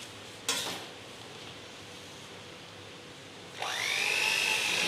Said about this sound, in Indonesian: Lalu kita mixer.